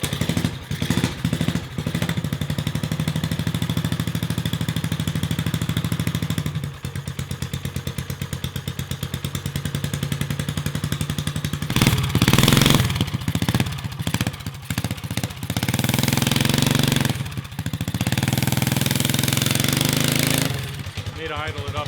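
Vintage Briggs engine on a rat rod mini bike running loud and close, with a rapid chugging, clattery idle that steadies, surges and sputters briefly before picking up again, while people talk nearby.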